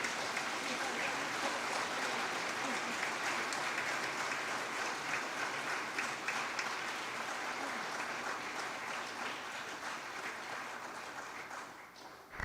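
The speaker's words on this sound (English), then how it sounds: "You're clapping that we figured it out." A church congregation applauds at a pastor's farewell service, a dense, steady wash of clapping that lasts the whole stretch and fades slightly toward the end, with some voices mixed in.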